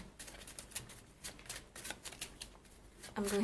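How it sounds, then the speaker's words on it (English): Tarot cards being shuffled by hand at close range, with a run of quick papery riffles and soft slaps repeating in a loose rhythm, faint and alone, before a brief tonal sound at the end. "I'm going to shuffle the cards on camera"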